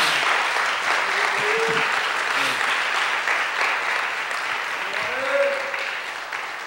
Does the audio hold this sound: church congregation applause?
yes